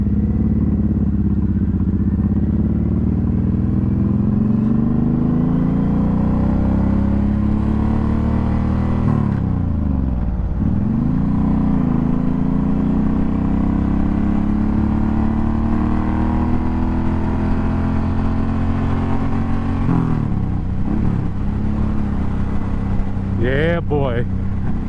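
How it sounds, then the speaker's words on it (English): Suzuki Boulevard M109R cruiser motorcycle rumbling steadily while ridden, a deep continuous exhaust drone that dips and rises with gear changes and throttle, close and loud throughout. "You can hear that rumble. This exhaust sounds crazy."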